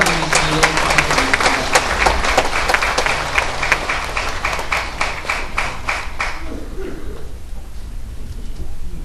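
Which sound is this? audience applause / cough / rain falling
audience applause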